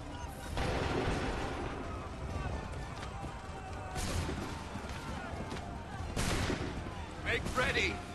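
Musket volleys fire in Assassin's Creed III Remastered during the Lexington and Concord battle, with several loud crackling bursts of massed gunfire over a rumbling battle din.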